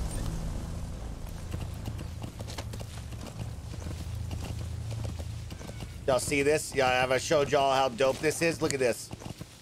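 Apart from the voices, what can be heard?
horse hooves in video game Metal Gear Solid V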